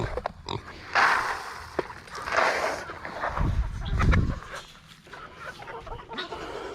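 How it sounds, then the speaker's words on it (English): Chickens of mixed breeds, including light Brahmas, Turkens, Americanas and Leghorns, cluck and squawk on a homestead, scattered calls near and far, with pig grunts mixed in. "And there are all my chickens."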